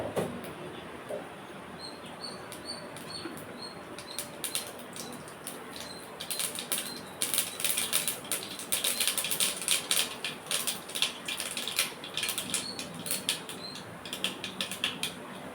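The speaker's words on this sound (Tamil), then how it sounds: "கடுகு நல்லா பொரிஞ்சு வரட்டும்." Mustard seeds crackle and splutter in hot oil, sparse pops at first building into dense, rapid sizzling bursts that then slowly thin out, close and with no talk.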